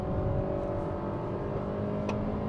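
A Hyundai Creta with a four-cylinder engine revs under heavy throttle from inside the cabin, a steady loud drone with a slight rise in pitch and no talking.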